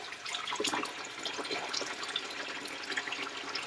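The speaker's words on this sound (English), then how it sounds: "Actually, I kind of like that the sink's filled up with water." Tap water runs steadily into a sink that is already filled with water, a continuous close splashing gurgle heard on its own without talk.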